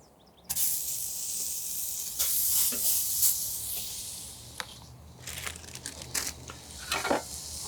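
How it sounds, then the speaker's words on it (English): Burgers hitting a hot grill on an Ugly Drum Smoker setup, a broad steady sizzle and hiss bursting in near the start and swelling with fresh crackling spurts, loud and close with no talk. "All right, so let's get the burgers on."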